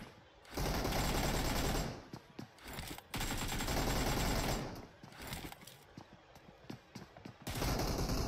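Bursts of automatic gunfire from the mobile battle-royale game PUBG Mobile in a one-on-one team deathmatch, several sustained rapid-fire volleys separated by short pauses, loud and close.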